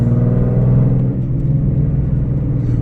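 A car with heat-wrapped cold air intakes cruises down a street. A steady, low engine rumble and road drone are heard from inside the cabin, with no talking.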